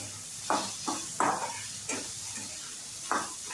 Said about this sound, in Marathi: त्याच्यावरती भाजून घ्यायचं आपल्याला मस्त कांदा, टोमॅटो, अद्रक, लसूण मी त्यातच घातलंय सगळं एकत्रच